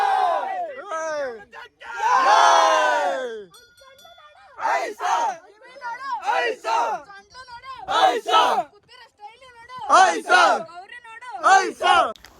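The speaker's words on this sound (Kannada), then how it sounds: "ಈ ಕಡೆ ನಮ್ಮ ಹುಡುಗರು ಗಣೇಶನಿಗೆ ಜೈಕಾರ ಹಾಕ್ತಾರೆ" A group of boys shouts rhythmic victory chants to Ganesha at an immersion ceremony, loud call-and-response bursts of voices rising and falling in repeated waves with short pauses between them.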